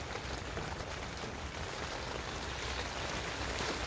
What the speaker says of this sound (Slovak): Ako počujete, tak prší.